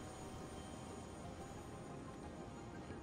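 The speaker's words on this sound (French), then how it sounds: "Oh, cet hélicoptère" Steady, loud helicopter rotor and engine drone inside the video game Prey, a continuous broadband roar with no speech over it.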